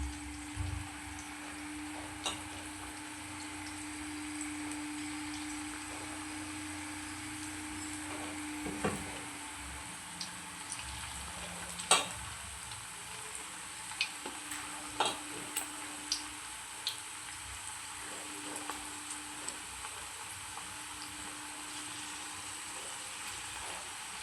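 Cabbage manchurian pieces frying in hot oil: a continuous gentle sizzle and bubbling for a long stretch, with scattered small ticks and clicks from utensils and a faint steady hum underneath.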